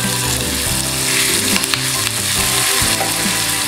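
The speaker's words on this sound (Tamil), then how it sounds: "வெங்காயம் கொஞ்சம் டிரான்ஸ்பரண்டாக வரட்டும்." Chopped onion and curry leaves fry in hot oil, giving a loud, steady close sizzle with crackling and occasional stirring, no voices.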